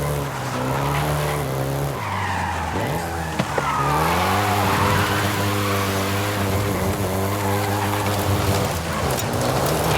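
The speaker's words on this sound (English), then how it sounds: "including the Golf GTI you're driving right now" Volkswagen Golf GTI driving in Forza Horizon 5, its engine tone rising and falling through gear changes, loud and steady with tire skids and a rain-like hiss underneath.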